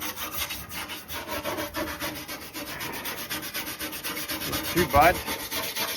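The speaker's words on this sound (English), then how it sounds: "Cleaning up the bulkhead of a Land Rover 90." Steady abrasive rubbing and sanding on the bulkhead of a 1985 Land Rover 90 during restoration, a continuous close scraping texture with a slightly louder burst near the end and a brief remark spoken over it.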